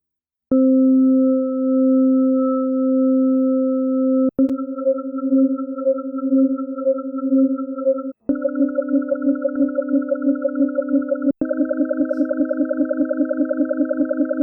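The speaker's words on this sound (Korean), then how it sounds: "3배음까지 가진 사인파 11개를 통해 맥놀이를 일으켜보면 소리가 이렇게 됩니다" Eleven sine waves, each carrying harmonics up to the third, beat against one another in four successive steady tones, each a little higher than the last, the volume throbbing faster with every step.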